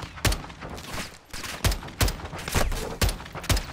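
Night gunfight in the Modern Warfare 2 campaign, roughly eight sharp, loud rifle shots in an irregular rhythm, each with a heavy close report and no voices over them.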